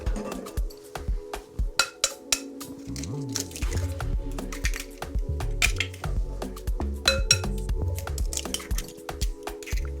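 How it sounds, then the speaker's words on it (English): Eggs and cornstarch whisked together in a medium bowl, wet squishy slaps and clinks of the whisk against the bowl in a quick steady rhythm, close up with no talking. "in a medium bowl, whisk the eggs and cornstarch together until smooth"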